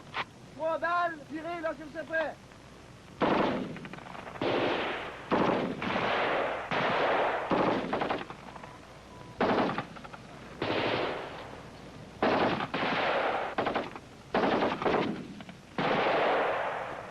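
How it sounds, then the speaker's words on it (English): Rifles fire in single shots and bursts during military trials of new Canadian small arms, loud crackling volleys recurring across the clip with a voice heard briefly near the start. "The rifles were fired in every mode, single shot and bursts, and from every firing position."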